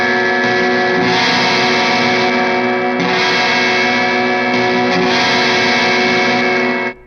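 Sterling Jason Richardson Cutlass 6 electric guitar played through its bridge pickup with heavy distortion, loud sustained chords restruck roughly every two seconds, ringing to a sudden stop.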